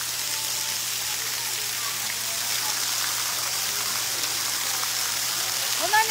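Steady rain falls in a broad, even hiss throughout, with faint voices of people somewhere in the background.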